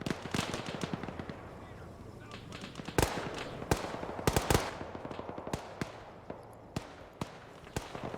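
Video game battle gunfire with bullets flying into a defended position: a dense stream of sharp cracks and pops, some close and loud, others distant and scattered, continuing steadily throughout.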